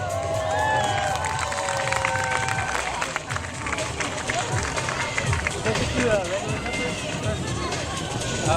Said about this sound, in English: let's make some noise for our last jumper